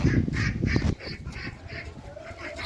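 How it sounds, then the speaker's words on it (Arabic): Domestic ducks on a farm quack in a loud cluster of repeated calls at first, then a few fainter quacks carry on over a busy background. "وده البط العادي بتاعنا ده."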